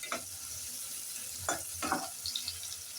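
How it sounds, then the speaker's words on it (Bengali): Chopped onion fries in a pot and gets stirred, a faint steady sizzle broken by a few brief scraping strokes of the spoon, quiet and close. "পেঁয়াজটাকে একটু নেড়ে চেড়ে কাঁচা গন্ধটা যাওয়া পর্যন্ত সোনালি কালার করে ভেজে নেব।"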